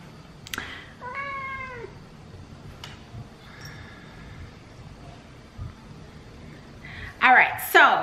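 A house cat meows indoors, a few separate drawn-out cries, fairly near, with quiet room tone between and a louder burst of higher cries near the end.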